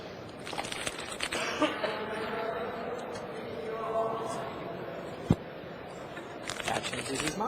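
A deck of Magic: The Gathering cards shuffled at a world championship finals table, with soft riffling rustles and a sharp snap partway through, heard under a nearby commentator's voice and faint room murmur.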